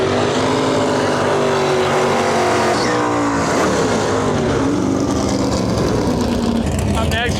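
A race car makes a 99 mph drag strip pass in the right lane at a heads-up racing event in Western Canada. The engine roars loud and steady throughout, with the pitch shifting as it passes, under an announcer's voice.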